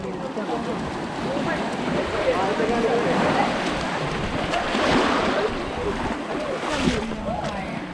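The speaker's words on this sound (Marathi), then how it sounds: "आता जरा पाण्यातून जाणार आहे" Wading through shallow sea water near Padmadurg sea fort: continuous sloshing and surf-like wash with wind buffeting the microphone, steady and fairly loud throughout.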